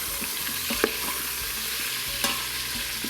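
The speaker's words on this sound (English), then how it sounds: "Just give that a quick stir." A spoon stirs bone broth and meatballs in an Instant Pot, a quiet sizzle running under a few soft scrapes and clinks against the pot, close and steady.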